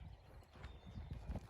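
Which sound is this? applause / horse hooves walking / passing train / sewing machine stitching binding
horse hooves walking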